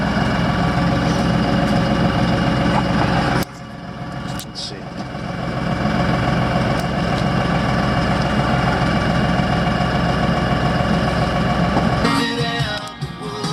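An LS XR4140 tractor engine idles with a steady low diesel rumble that runs throughout at a constant loud level, briefly dipping partway through, while a person speaks over it.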